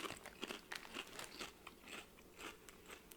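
Cool Ranch Doritos tortilla chips crunched and chewed close up, a quick series of crisp bites and crackles with brief pauses, no talking.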